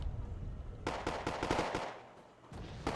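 Rifle and machine gun fire in the strategy video game Wargame AirLand Battle: rapid bursts of sharp cracks in quick succession, fairly faint, in two clusters separated by a short pause.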